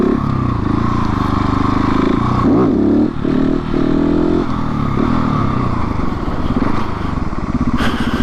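A KTM 690 SMC R single-cylinder supermoto rides tight twisty roads, its loud close engine drone rising and falling through the bends, with wind rush over the microphone throughout.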